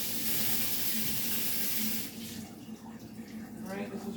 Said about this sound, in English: Okay, let me just rinse this off.